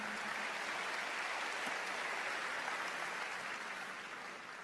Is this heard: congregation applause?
yes